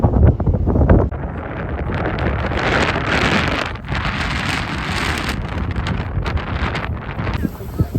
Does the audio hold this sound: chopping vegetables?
no